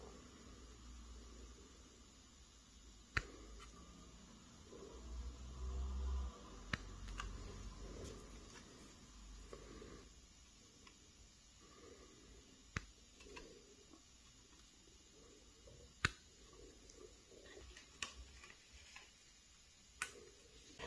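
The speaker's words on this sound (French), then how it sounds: "Nous allons donc dégrapper les pièces 69 et 70 qu'il faut coller sur le dessus des ailes." Plastic model kit parts are snipped off the sprue, giving sparse, faint, sharp clicks spaced several seconds apart against a very quiet background.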